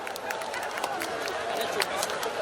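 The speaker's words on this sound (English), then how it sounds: "I'd request everybody for a standing ovation." An audience at a company achievement event gives a standing ovation, dense clapping spread across the room at steady loudness, with crowd murmur mixed in.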